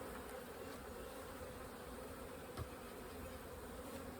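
Honeybees buzz steadily throughout an urban hive inspection, a dense continuous hum at moderate level with no talking and one brief soft knock midway.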